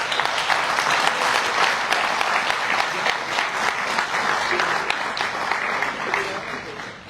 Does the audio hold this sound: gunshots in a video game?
no